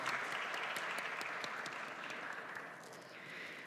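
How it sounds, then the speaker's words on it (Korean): Church congregation at a Korean young adults' Sunday worship service clapping steadily together, a dense even patter that fades slightly toward the end, with no talking over it. "우리 함께 박수로 하나님께 영광 올려드리도록 하겠습니다"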